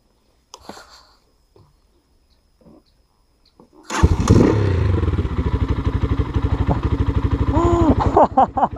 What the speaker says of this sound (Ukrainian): Зараз я проїдусь на ньому і скажу вам свою думку на рахунок цього мотоцикла.